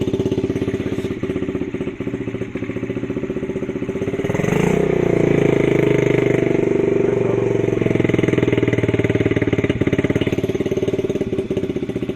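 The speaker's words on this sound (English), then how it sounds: "I'll show you what I mean with the like high revving." A 2003 Honda CRF50 dirt bike, a dump find, idles unevenly at first, then its revs rise sharply and hold in a loud, sustained high buzz close by.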